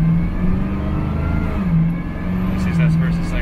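A 1969 Camaro engine revving up through first, second and third gears, shifting smoothly around 3,000 RPM, a steady low drone rising and dipping with each shift, heard from inside the car.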